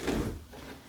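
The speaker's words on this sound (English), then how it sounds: "I'm actually going to move my chair, so excuse the noise." A short scraping shuffle, like a chair being moved across the floor, heard close and brief with no talking.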